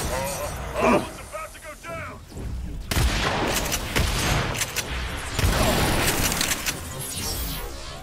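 Gunfire in the shooter video game Agents of Mayhem comes in dense bursts and bangs layered with explosions and game effects, with someone talking over the action.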